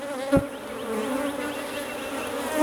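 Honeybees swarm and buzz around an opened hive during an inspection, a steady close insect drone holding through the whole stretch with one brief louder swell near the start.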